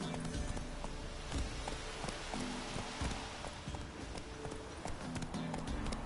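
Roach, a horse in The Witcher 3, gallops in a fast, continuous run of hoof clip-clops over a dense, loud game soundscape, with no talk.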